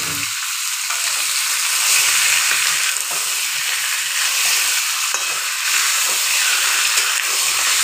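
Chicken pieces dropped into hot mustard oil with cumin and onion, giving a loud, steady sizzle and hiss that runs continuously without pause, close up and alone with no talking.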